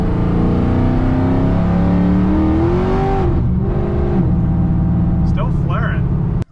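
A Pontiac GTO drives and accelerates nearby, its engine note climbing steadily in pitch with a strong low rumble before easing off, and a voice talks over the engine throughout.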